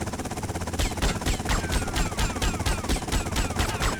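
Rapid automatic gunfire from a video game, with loud bursts of shots repeating quickly and evenly for several seconds and no talking.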